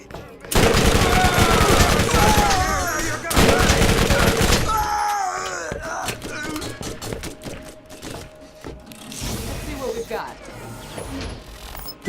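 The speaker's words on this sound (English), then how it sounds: "I was expecting this SMG to be able to kill both of them" SMG fire in Borderlands, fast bursts of rapid shots in the first half, then scattered pops and mechanical clatter with game effects behind.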